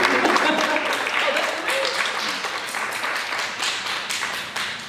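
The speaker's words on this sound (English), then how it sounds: "That deserves an applause right there." An audience applauds a Florida Boxing Hall of Famer, a broad burst of clapping that starts strong and slowly thins over five seconds, with some scattered individual claps standing out.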